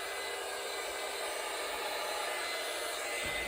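A heat embossing tool blows hot air to melt embossing powder, giving a steady, hissing fan roar that runs evenly and loud for the whole stretch without any speech.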